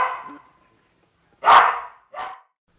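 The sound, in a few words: dogs barking at a dog rehoming charity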